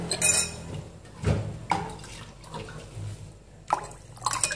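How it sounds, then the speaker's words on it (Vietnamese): Filtered water is poured into a bowl of small eggplants being pickled in brine, with irregular splashes, drips and light clinks of a bowl or utensil, close and fairly quiet. "Mình cho nước lọc, sau đó thì mình sẽ cho nước sôi để cho ấm tay các bạn ạ"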